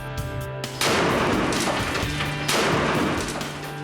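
A gunshot fired at a hand in a bullet-stopping test on MythBusters: two loud, sharp blasts about 1.7 seconds apart, each followed by a ringing decay, with no talking.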